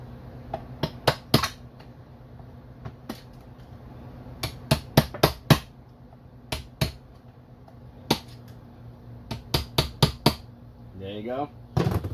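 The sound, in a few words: hammering on a transmission part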